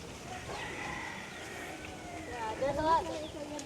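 Native chickens carried on a bus in the Philippines, with a rooster crowing loudly near the end over clucking and background voices and road noise.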